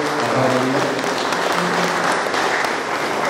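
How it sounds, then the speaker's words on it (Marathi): Loud, steady applause from a church congregation at a wedding anniversary celebration for couples married 25 and 50 years, thanking the priests and committee, with musical tones sounding faintly underneath. "आपण जोरदार टाळ्या वाजवून सर्व फादरांचे आणि कमिटीचे आभार मानूया"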